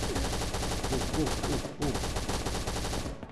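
Rapid automatic gunfire bursts in the survival shooter game Last Island of Survival, loud and close with a dense rattling rhythm, briefly pausing midway before resuming.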